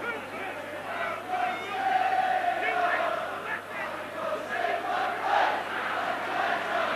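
Rugby league stadium crowd of about ten thousand cheering during a Challenge Cup match between St Helens and Bradford, a distant rolling roar with rising chants and shouts, fairly faint.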